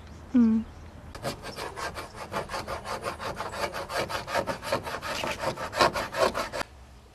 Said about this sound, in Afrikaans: Ek skuur nou af